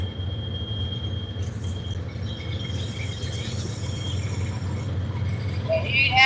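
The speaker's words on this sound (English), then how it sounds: "Sorry about the train." A freight train rumbles past near a river, its heavy low roar steady throughout, with occasional wheel squeals and metallic screeches rising toward the end.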